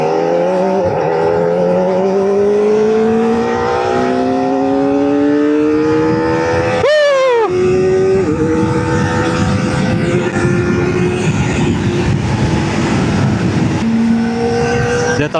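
The engine of a Kawasaki ZX4R SE motorcycle whines high and loud while riding, its pitch climbing steadily through the gears with brief dips at shifts, continuous and close throughout.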